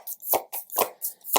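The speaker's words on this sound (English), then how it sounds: "So let me shuffle some final cards for you guys." Tarot cards being shuffled by hand, with three quick riffling bursts, each ending in a soft thump as the deck is squared, close and crisp.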